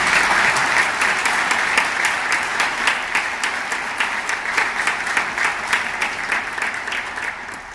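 A congregation applauds during a Sunday Mass homily, a sustained, even wash of many hands clapping in a reverberant church, steady from start to finish with no voices over it.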